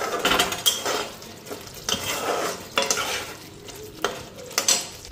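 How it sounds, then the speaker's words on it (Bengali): Eggplant frying with onion and spices is stirred in a pan, with a soft background sizzle broken by regular scrapes and clinks of a utensil against the metal, close and moderately loud. "আর বেগুন ভাজা, এই যে পেঁয়াজটা দিয়া দিই। এইদিকে মশলাও দিয়া দিলাম, এখন আস্তে আস্তে হইতে থাক।"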